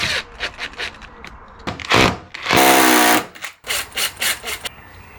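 Short bursts of a power drill with a 5.5mm masonry bit grinding into a masonry wall, starting and stopping several times, close and loud with a longer sustained run midway.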